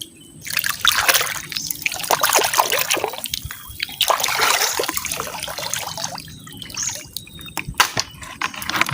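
Clear tropical sea water at high tide, heard close as a continuous splashing and trickling wash with gurgling drips and small surges, rising and falling in waves without voices.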